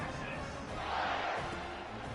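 Stadium crowd noise from an American football video game, a steady distant murmur of many voices with a brief swell in the middle, heard alone for a couple of seconds.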